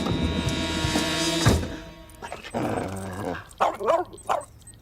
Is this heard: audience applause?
no